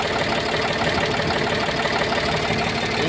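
An old Eicher 485 three-cylinder diesel tractor idling, a steady, rough low throb with dense knocking pulses, close and continuous for the whole stretch, no talk.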